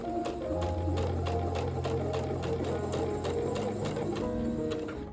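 A sewing machine stitches pinned quilt fabric pieces for a spring banner, a fast steady mechanical whir with rapid needle ticks, close and continuous throughout without talk.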